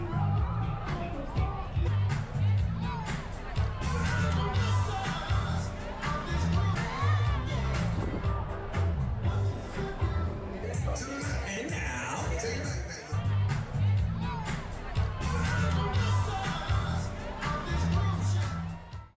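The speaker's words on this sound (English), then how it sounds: "We joined the crowds on the top decks for the party." A dense crowd murmurs and cheers on the top decks of the Carnival Vista cruise ship during the sail-away party, a continuous babble of many voices with occasional shouts and music-like pulses throughout.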